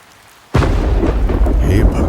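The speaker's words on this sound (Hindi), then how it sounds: "अरे बाहर नहीं देखा क्या, कितनी मूसलाधार बारिश हो रही है" After a brief quiet moment, a loud burst of thunder rolls in with heavy rain pouring down, a deep rumbling roar that stays loud.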